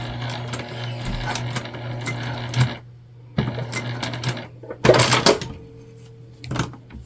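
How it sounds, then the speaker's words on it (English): A sewing machine runs a basting stitch on a beginner crossbody bag, in short bursts of rapid stitching separated by pauses, with clicks and a sharp clunk of the machine between runs. "we just want to secure this in place with a nice little baste"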